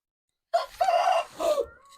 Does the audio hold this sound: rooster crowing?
yes